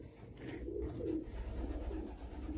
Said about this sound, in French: les pigeons qui sont dans mon pigeonnier